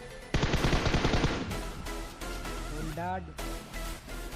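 A rapid, loud burst of automatic gunfire from a mobile shooter game played on an iPad rattles for about a second, followed by quieter game sounds and a voice speaking.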